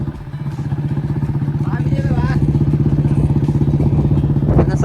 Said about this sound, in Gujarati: તો દોસ્તો આપણે બુલેટ લઈને નીકળી ગયા છીએ ફાઇનલી.